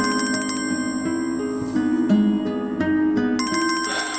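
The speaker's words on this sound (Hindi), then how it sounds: "फिर आ गया। मलिक साहब का फोन है।" A mobile phone ringtone signals an incoming call, playing a bright repeating electronic melody that rings loudly and close, with short gaps between phrases and no talk over it.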